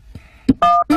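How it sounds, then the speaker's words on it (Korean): A telephone number is dialed on a keypad, giving a few short, loud DTMF tone beeps in quick succession, close by with no talk over them. "잠깐 있어봐. 전화 좀 걸고."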